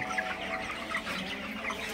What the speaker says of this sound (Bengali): আজকে আপনাদের সাথে রাতের ব্রয়লার মুরগির ভিডিওটা শেয়ার করব